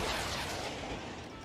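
Heavy cannons fire in the Age of Empires 3 real-time strategy game, giving a loud, dense, rumbling blast that decays slowly across the whole moment, with no speech over it.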